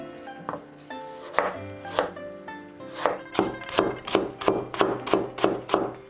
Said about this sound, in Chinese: 先切薄片，再切细丝。